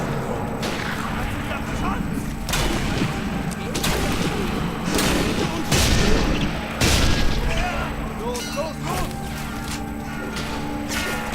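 Sniper Elite 3 video game gunfire cracks out in a series of loud, sharp shots and booms spaced a second or two apart over steady background game ambience.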